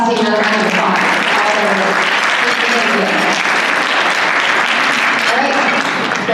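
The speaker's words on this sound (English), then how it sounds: "Let's give the public policy team another round of applause." Applause from a meeting audience fills the whole stretch, a steady dense clatter of many hands at close range that keeps going without a break.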